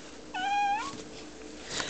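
A small child imitates a cat's meow in a single drawn-out, high, wavering call indoors, close and fairly soft, with quiet background afterward.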